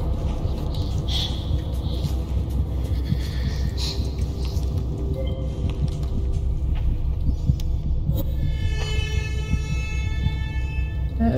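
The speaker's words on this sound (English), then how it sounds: "like the heartbeat keeps getting bigger" A loud, slow heartbeat pounds in Among the Sleep, deep rhythmic thuds over a low droning hum, with a brief tonal chime near the end.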